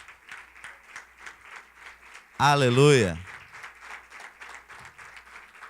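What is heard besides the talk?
church congregation applauding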